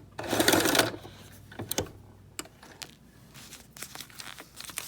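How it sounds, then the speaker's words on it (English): A home sewing machine runs a short lock stitch at the corner of a fabric tissue box cover being monogrammed, giving a brief dense burst of stitching followed by scattered fabric handling clicks and rustles. "this is where I'll do a lock stitch."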